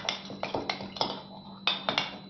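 A spoon stirs flaxseed paste mixed with a spoonful of honey and a spoonful of sugar in a bowl, making a series of sharp, close clinks and taps in an uneven rhythm, with no talking.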